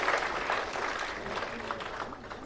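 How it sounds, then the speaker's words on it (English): Applause at the inaugural ceremony of IndiaSoft 2025 and the India Electronics Expo, a dense, steady wash of many hands clapping at moderate volume with faint crowd murmur, holding for the whole stretch. "Let's welcome him with a huge round of applause, ladies and gentlemen"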